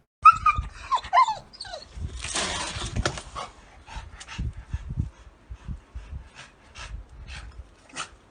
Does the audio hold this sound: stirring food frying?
no